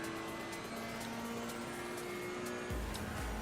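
Ferrari 488 EVO race car engine in Assetto Corsa Competizione at Kyalami, droning steadily with a sustained tone, a deeper rumble swelling near the end as the revs shift.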